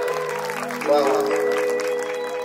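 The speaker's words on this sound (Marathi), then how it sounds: "सर्वांनी जोरदार टाळ्या वाजवायच्या" An audience applauds steadily at a village devotional song programme during a prize presentation. The clapping holds through the whole stretch, mixed with sustained tonal music or voices, and rises slightly partway through.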